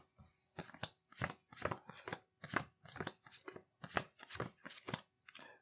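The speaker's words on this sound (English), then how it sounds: "I'm going to shuffle all of the discard pile" A discard pile of playing cards is riffled and bridged repeatedly, about a dozen quick papery bursts in a regular rhythm, close and crisp with no voices.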